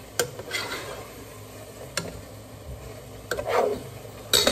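Spaghetti cooking in a pot and starting to stick, with a few sharp stirring scrapes and soft sizzling bursts spaced out against a quiet kitchen background.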